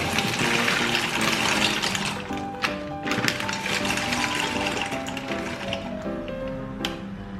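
Dried pasta tipped from its packet into a pot of not-yet-boiling water, a loud, steady close-up rush and rattle of pieces pouring and splashing that lasts throughout, with no voices.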